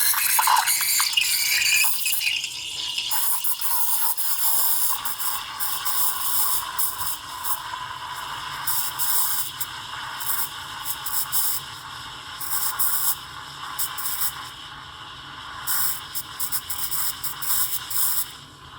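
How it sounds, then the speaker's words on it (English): A Gaggia Classic Pro steam wand hisses steadily while aerating milk, a close, continuous noisy rush with fluctuating texture and slight gurgling throughout. "I wanted you to hear the hissing sound you're supposed to get when you're adding in air."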